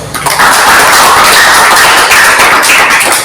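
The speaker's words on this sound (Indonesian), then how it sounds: "Tepuk tangan, Mas." Dense, continuous hand clapping from a group fills the room loudly and evenly for a few seconds, with no voices over it.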